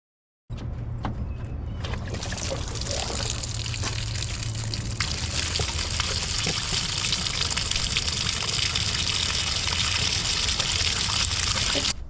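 Water gushes loudly and continuously from a disconnected hose on a small-block Chevy 350 engine in a 1986 Chevy G20 van, starting suddenly and splashing steadily for the rest of the clip.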